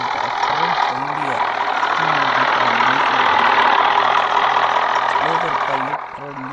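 A tractor engine idles in a loud, continuous rumble at a tractor trolley contest. The drone holds steady throughout and drops slightly at the end, with faint voices in the background.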